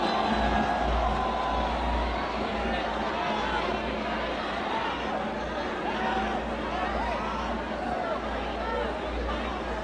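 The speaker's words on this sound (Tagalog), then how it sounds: "Sigawan, oh." A large crowd at an INC rally in the Philippines roars and shouts continuously, a dense wall of voices and cheering that holds steady without pause.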